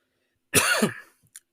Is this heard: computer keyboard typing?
no